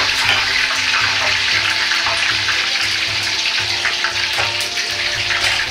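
Boiled snap peas dipped briefly in hot frying oil, giving a loud, dense hiss and crackle with a rhythmic low bubbling pulse underneath, close and continuous throughout.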